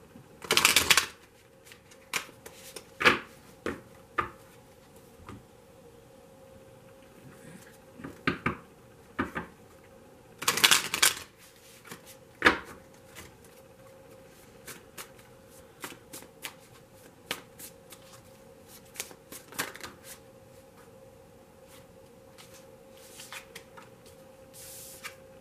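A tarot deck is shuffled in several brisk riffling bursts, each a second or two long, separated by quieter stretches with light card handling and small taps, close up with no speech.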